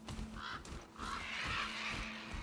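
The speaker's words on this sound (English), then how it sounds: "Jesus, birds." Crows caw in a tense stretch of The Last of Us Part II, their harsh calls rising in two raspy bursts over a low game hum, fairly loud and close, with no speech over them.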